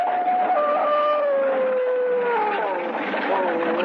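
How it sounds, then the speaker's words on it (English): Devil dogs snarling and howling as a vintage spooky radio show sound effect, long wavering howls rising and falling continuously at steady loudness, several voices overlapping with no talk. "the devil dogs ran, snarling and howling"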